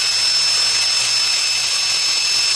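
A power drill runs at full speed on its third setting, a loud steady high whine that holds throughout without a break.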